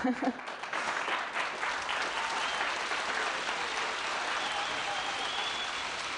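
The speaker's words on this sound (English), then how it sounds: "Applause if that's possible." Audience applause for a keynote speaker at a digital-space livestream event: steady, dense clapping from a crowd that fills the whole stretch and holds at an even level without fading.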